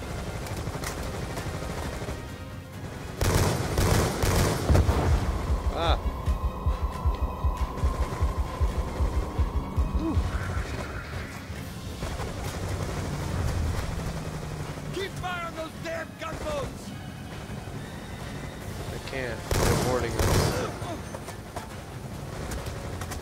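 Gunfire from the video game Call of Duty Black Ops 2, with dense rattling bursts and loud shots that come and go across a busy battlefield mix, mostly under a voice talking.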